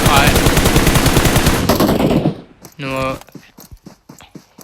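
Rapid automatic gunfire bursts in a PUBG match on the Miramar desert map, loud and dense, followed by a few sharper separate shots as a commentator talks over the action.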